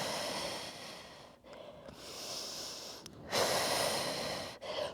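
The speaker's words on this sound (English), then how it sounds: "So inhale, exhale." Deep breaths drawn in and pushed out during a workout exercise, a few slow cycles of breathy inhales and stronger exhales close to the microphone with brief pauses between them.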